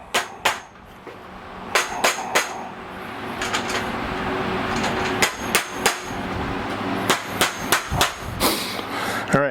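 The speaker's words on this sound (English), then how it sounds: "we'll take our hammer and we'll make sure they're in all the way" Sharp hammer taps driving wooden legs into a folding work table, some single and some in quick pairs or bursts, close and loud over a low background hum.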